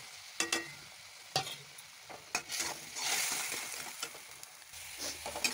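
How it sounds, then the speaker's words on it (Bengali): A spice paste of ground garlic, onion and green chili with salt and chili powder being fried and stirred in a pan, with a constant hiss of hot oil broken by sharp scrapes and taps of the spatula, close and without speech. "মশলাটা ভালো করে কষে নিই।"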